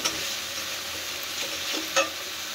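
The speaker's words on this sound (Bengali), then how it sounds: "পেঁয়াজটা ভালো করে মানে ভাজতে হবে, ভাজা ভাজা করতে হবে" Ground onion paste fries in oil in a pan with a steady close sizzle, stirred with a soft scrape and a single brief utensil knock near the end.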